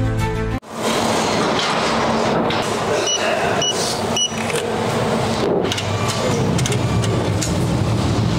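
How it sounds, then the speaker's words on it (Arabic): Paris metro train running along the line, a loud continuous rumble and hum of the carriage in motion with brief clanks and squeaks over the steady roar, no talk. "دابا حنا متوجهين ان شاء الله للمترو، غنشدوا المترو"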